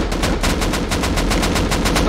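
Rapid automatic gunfire in the survival game Rust, a steady burst of about a dozen evenly spaced shots filling the whole stretch at close, loud range with no talk over it.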